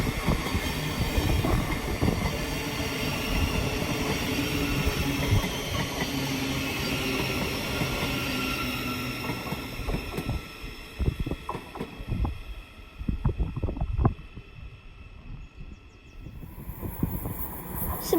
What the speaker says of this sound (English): Coming in now is a Thameslink service from St Albans to Sutton, marked by 700,